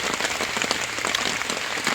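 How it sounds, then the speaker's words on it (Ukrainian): Steady rain falling on a surface, a dense continuous patter that stays even throughout with no talking. "поки йде дощ"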